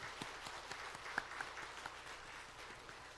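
A church congregation at a Sunday morning service applauds its choir: soft, steady clapping from a crowd, heard at a distance in a reverberant sanctuary.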